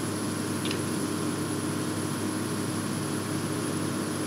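Steady, loud whirring drone of a helicopter in the American Truck Simulator video game, constant and unbroken throughout with no talk over it.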